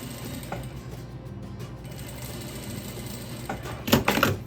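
A sewing machine stitches patchwork quilt fabric for a tulip block, its close, steady mechanical whir running continuously, with a few louder clattering bursts near the end.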